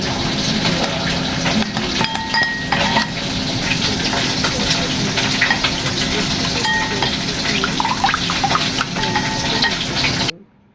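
Water and flax seeds simmering and bubbling in a wok on a stovetop, a steady sizzling hiss with occasional light clinks of a utensil, continuous until it stops abruptly near the end.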